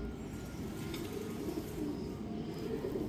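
A Teddy breed pigeon coos softly in a low, steady murmur, close by and continuous for a few seconds with no talking over it.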